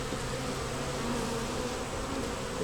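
Honey bees buzz loudly and steadily all around during a hive inspection, a dense, continuous drone with no pauses and no voices.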